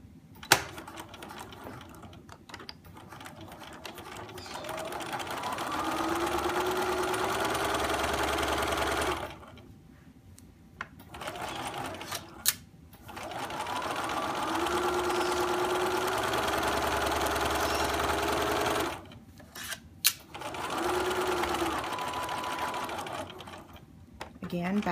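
A sewing machine stitches butterfly quilt blocks in steady whirring runs, stopping and restarting a few times, close and clear, with a person talking quietly between the runs.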